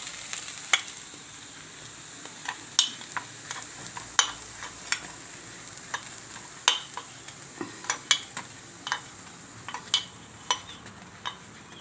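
Gab gota dumplings fry in oil on a gas stove with a steady, close sizzle, broken by sharp clinks and scrapes from a utensil stirring the pan.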